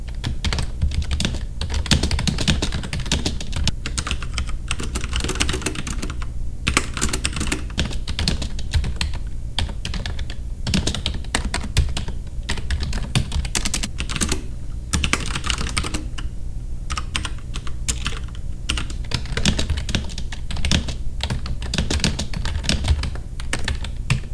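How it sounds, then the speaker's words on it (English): Continuous rapid typing on a Logitech G610 Orion Brown mechanical keyboard with Cherry MX Brown switches, dense clattering keystrokes at a steady pace, close and fairly loud, with no talking. "Let's hear how it compares to a rubber dome keyboard in this sound test."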